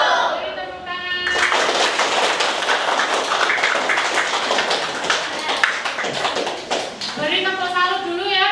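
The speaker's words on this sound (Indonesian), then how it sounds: "Beri tepuk tangan." Applause from an audience at a school event, dense steady clapping lasting several seconds after a short stretch of speech, then a voice resumes near the end.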